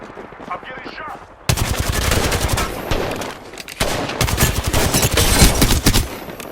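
Automatic weapon fire in the Apex Legends arenas game strikes the player, coming as loud, dense bursts of rapid shots that begin abruptly and continue almost without a break, with a short lull partway through.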